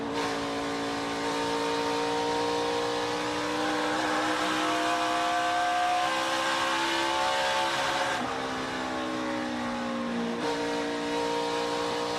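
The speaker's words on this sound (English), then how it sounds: "We can kind of listen in to just exactly how much on-throttle time he has." A NASCAR Xfinity Series race car engine roars steadily from an in-car camera during qualifying at Rockingham, holding a high sustained pitch that rises, then briefly drops twice as the driver eases off the throttle.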